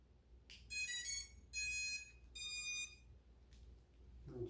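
Drone ESCs chirp on startup after a LiPo battery is plugged in, giving three short bursts of bright, tonal electronic beeps in a rising-pattern sequence over a low hum, with a faint clunk at the end.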